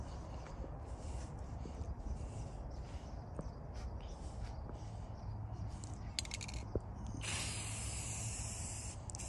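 Clear coat sprayed onto a bass speaker box lined with Rhino lining: a steady close hiss of spray runs throughout under low background rumble, growing brighter and louder near the end.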